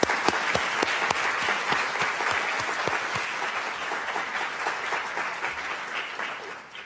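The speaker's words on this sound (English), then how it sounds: "I'd like to give her a second round of applause for an excellent address." Sustained audience applause following an address at a global health security event, steady dense clapping across the whole span with no talk over it, tapering slightly at the end.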